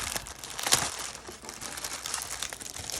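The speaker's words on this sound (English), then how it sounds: "Just want to rip these bags." Plastic bags from a 1/35 scale Challenger 2 model kit being ripped open, a sharp crinkling tear near the start followed by softer rustling and crumpling of the plastic close by.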